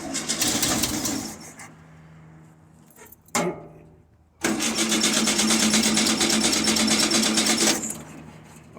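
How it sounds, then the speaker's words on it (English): A 1970 VW engine is started with the key: it fires and runs with a loud, busy clatter, cuts out for about a second, then catches again and runs steadily for several seconds before easing off. "Cat, go hit the key one time."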